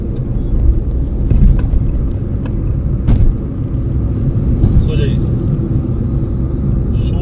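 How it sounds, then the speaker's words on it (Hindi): Steady road rumble fills the cabin as a car cruises at night on the Yamuna Expressway between Noida and Agra, with a constant low engine and tyre drone throughout and faint clicks above it. "मैं गाड़ी चला रहा हूँ"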